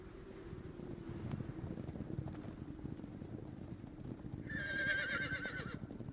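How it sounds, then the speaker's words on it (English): A frightened horse lets out a high, shrill whinny near the end, after several seconds of low rumbling wind and faint hoof-like thuds. "The sound of a very scared horse."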